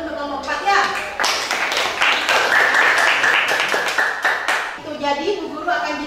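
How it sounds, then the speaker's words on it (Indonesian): Students in a primary-school classroom clap for group 4 during a science lesson, with a burst of scattered hand claps mixed with children's voices and chatter, fading as talk resumes. "Kita beri tepuk tangan dulu untuk kelompok 4, ya."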